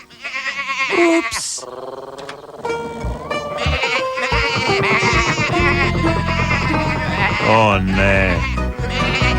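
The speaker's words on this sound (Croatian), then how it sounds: "Baš kad su ovce došle pred njih" Cartoon sheep bleat repeatedly at a farm gate in a Tractor Tom episode, the wavering bleats loud and overlapping with bright background music and brief character voices.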